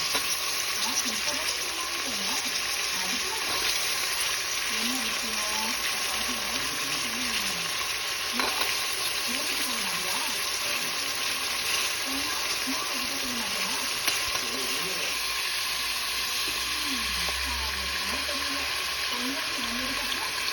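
Brinjal, broad beans and carrot fry in a pan with a steady hiss and bubbling, close and constant, while someone speaks quietly over it.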